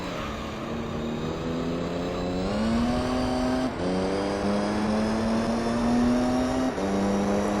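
A race car engine in Gran Turismo 3 holds a steady high drone that climbs and drops through the gears in a continuous loud whine, with no break in the sound.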